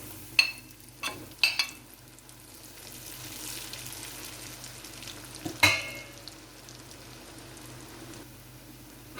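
Chin chin dough sizzles and crackles in hot oil at a steady low level, broken by a few sharper clinks and scrapes of stirring.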